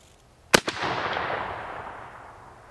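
A single sharp gunshot from an 1873 Trapdoor Springfield rifle cracks out close and loud, followed by a quick echo and a long rumbling decay across open ground.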